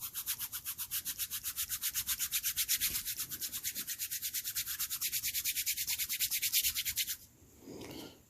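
Hands rub briskly together close up in a steady back-and-forth rhythm of about five strokes a second, a dry swishing friction that stops abruptly near the end, followed by a softer shuffle.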